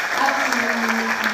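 Audience at a Stop 5G public meeting in Mullumbimby, Australia, applauds a speaker with steady, dense clapping that fills the room for the whole moment, a voice faintly audible beneath it.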